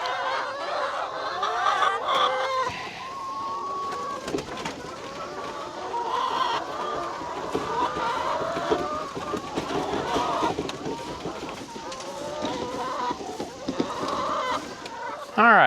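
Chickens clucking on a small farm, a busy flock making continuous overlapping clucks and squawks close by, with someone talking intermittently among them.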